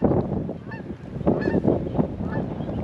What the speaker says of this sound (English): There's some geese.